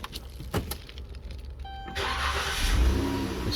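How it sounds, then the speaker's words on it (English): A car engine starts: a short cranking burst, then a steady idle hum that carries on to the end, heard close without talk. "I start the car just to be sure."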